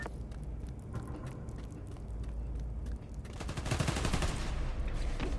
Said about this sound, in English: They're shooting Transformers?